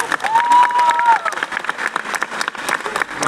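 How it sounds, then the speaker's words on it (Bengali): A crowd at a Bengali film event for Projapoti 2 breaks into loud applause for Abhijit, fluttering clapping mixed with crowd voices and a brief whistle-like tone early on. "এটা অভিজিতের জন্য জোরে হাততালি চাই"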